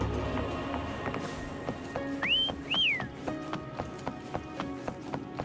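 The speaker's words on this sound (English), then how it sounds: "Try whistling." Two short rising whistles in the video game Wuthering Waves, heard over rhythmic footsteps and faint background game sounds.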